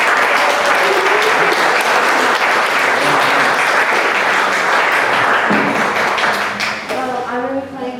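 Audience at a music festival concert giving a performer a sustained round of applause, dense steady clapping for several seconds that thins toward the end as faint tones come in.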